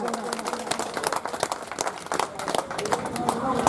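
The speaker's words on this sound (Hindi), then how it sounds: "जोरदार तालियां से अभिवादन करो।" Crowd at a community society election gathering applauding to welcome the president, a dense continuous patter of many hands clapping, moderately loud, with voices mixed in.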